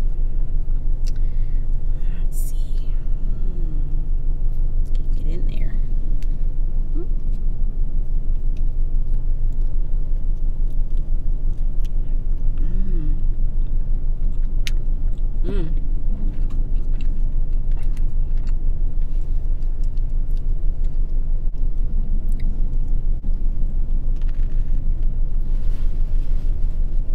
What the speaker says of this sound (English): I gotta turn my car on.